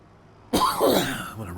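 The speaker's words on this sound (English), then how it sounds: "Sorry, I don't mean to keep coughing here." A man gives a single close, abrupt cough with a short throaty rasp that trails off, alone with no other sound around it.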